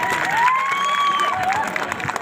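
An audience at a live concert in Panchakot, Baglung, applauds and cheers in a sustained burst, with a whistle-like tone sweeping over the crowd noise.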